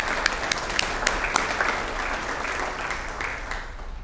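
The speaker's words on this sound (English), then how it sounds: "let's give them a round of applause." Audience at an athletics hall of fame induction ceremony breaking into sustained applause, a full wash of many hands clapping with a few sharp nearby claps standing out, holding steady throughout.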